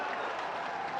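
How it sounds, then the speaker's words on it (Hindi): Audience applause at a government ceremony in India marking one year of the state government: a dense, even wash of many hands clapping at steady volume, heard alone without a clear voice over it. "जोरदार ताली, टिके जोरदार ताली एवं हुलाहुली हे जाओ।"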